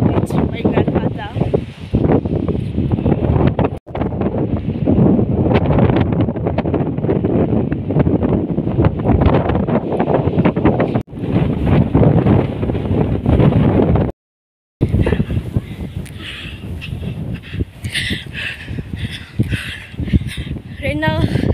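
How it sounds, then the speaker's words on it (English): Strong wind blowing across dry hilly countryside, a loud continuous roar buffeting the microphone for a long stretch, with a brief cut to silence near the end. "Right now, the wind is too much at this point. It's so windy"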